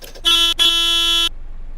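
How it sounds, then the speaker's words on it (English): Car horn in the bus driving game OMSI 2, two quick beeps, the second held about a second, loud and close over a faint background. "Just beeping them to move because the light was green, but they would not go."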